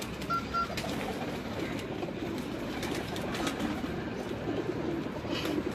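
Pigeons coo steadily on a rooftop, their soft repeated calls running throughout over a constant wash of outdoor background noise.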